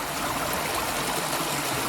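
Water is pumped through a hand-operated hiking water filter beside a stream on the Appalachian Trail, giving a steady, close rushing trickle with no voices.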